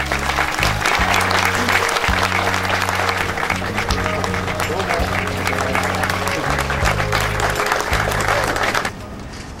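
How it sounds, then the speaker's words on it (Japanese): Townspeople gathered for the unveiling of a handprint monument at a city hall gate applaud steadily, a dense wash of clapping with a low tonal hum beneath, ending abruptly. "会場に集まった市民からは大きな歓声と拍手が沸き起こりました"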